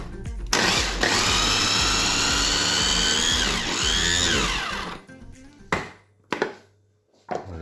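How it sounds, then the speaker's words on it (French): Garlic, chives and parsley chopped finely in a food processor: a loud whirring motor drone for about four and a half seconds, winding down, then a few short bursts. "la ciboulette et le persil. Et on hache tout cela. Aussi fin qu'on peut."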